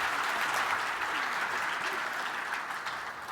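Sustained audience applause fills a keynote hall at the Jamf JNUC 2018 conference, a steady dense wash of many hands clapping at even loudness throughout, with no voices standing out.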